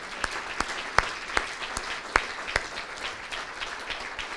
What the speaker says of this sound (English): how about a big round of applause for everybody in this room right now?